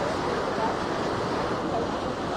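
A strong river current in Occidental Mindoro rushes in a loud, steady roar of broadband water noise with no let-up and no voices.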